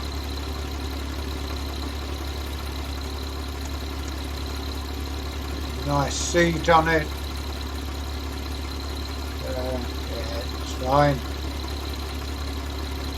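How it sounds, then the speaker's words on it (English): A 1962 Fendt tractor engine idles with a steady low drone throughout, while people talk briefly over it in short exchanges. "Nice tractor."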